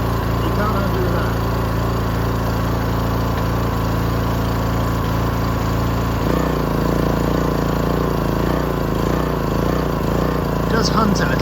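A 1965 Honda E300 generator engine runs with the choke off, a loud, continuous close-up drone that hunts slightly before its pitch shifts and settles into a steadier idle partway through.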